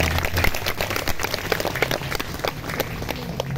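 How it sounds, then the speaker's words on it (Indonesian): A burst of steady, dense clapping from a group of junior high schoolchildren at a school orientation fills the room, continuous and fairly loud throughout. "tepuk tangan anak-anak"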